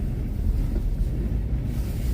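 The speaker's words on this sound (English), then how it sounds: "So it's really windy down here today." Strong wind in a snowstorm on a street in Niagara Falls roars past a slightly opened car window, a steady loud low rumble of buffeting air with no talk.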